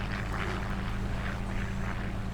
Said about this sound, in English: we'll take the Massey Ferguson tractor back over to the other yard